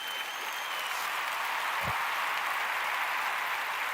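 Steady applause from an online watch-along audience during a Fulham v Everton football stream, filling the whole clip at an even, dense level with no voices over it.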